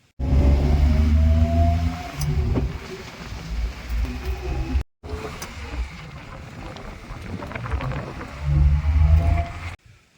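A 2015 Maruti Suzuki Omni petrol van engine running, a low droning hum with rising and falling revs, briefly cut off midway and resuming close to the microphone.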